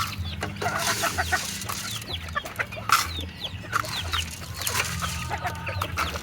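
Molting gamebird chickens clucking and calling repeatedly at close range, with overlapping clucks and squawks over a low rumble of background noise.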